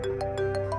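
A mobile phone rings in a room, repeating short bright electronic pulses in a steady rhythm over a sustained tone, with no one speaking.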